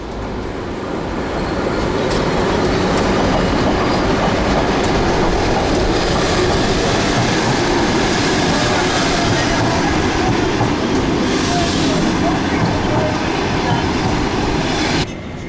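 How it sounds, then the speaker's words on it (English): A train rolls past a station in Ukraine, heading east toward Russia, loud and close for nearly the whole stretch, with steady rumbling wheel noise and some faint clickety-clack and brief squeal before it cuts off abruptly. "This train's going in the other direction."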